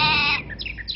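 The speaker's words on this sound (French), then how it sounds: "Un mouton." Sheep bleat from a World of Warcraft mage polymorph spell, a loud wavering bleat that fills the first half, then thin chirpy warbling tones trail off.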